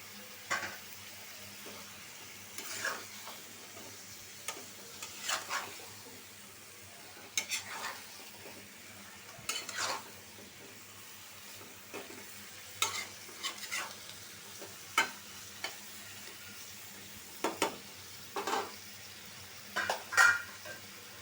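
Shrimp and bottle gourd fry in a pan under a soft, steady sizzle, while a spatula scrapes and stirs in repeated, evenly spaced strokes close by.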